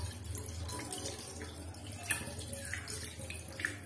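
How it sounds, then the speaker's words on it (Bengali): Running water from a kitchen tap splashing into a sink while something is washed, with soft, faint trickling and occasional drips and clinks. "চলো তাহলে সিঙ্কে চলে যাই, আমি এটাকে এখন ধুয়ে নেব।"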